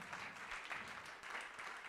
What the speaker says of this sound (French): on peut simplement applaudir tous les pasteurs qu'il y a en ce lieu ici